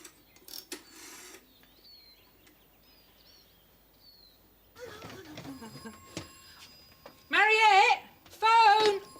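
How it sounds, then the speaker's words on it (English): An old telephone bell rings in a countryside house, two loud ringing bursts near the end, after a stretch of quiet clattering and faint background sounds. "Phone!"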